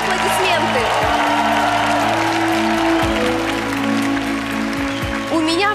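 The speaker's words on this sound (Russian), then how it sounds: "Ваши аплодисменты!" A studio audience at a televised ice-skating show claps loudly and continuously as champion pairs are introduced, with the applause mixed under music and a host's voice.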